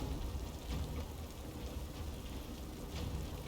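Rain spell cast in the video game Divinity Original Sin II, a steady hiss of falling rain with spattering drops on surfaces, continuous and fairly loud throughout, no voices.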